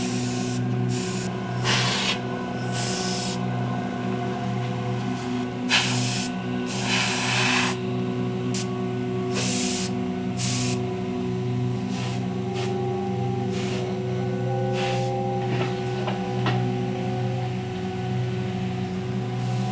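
Airbrush spraying paint onto artwork, soft hissing bursts of varying length over a steady compressor hum, close and fairly quiet, with no talking.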